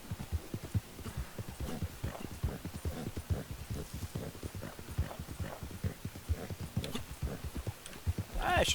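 Horse hooves clip-clop in the Red Dead Online video game, a steady rhythmic trot of close, clear hoofbeats continuing throughout with a brief louder burst at the end.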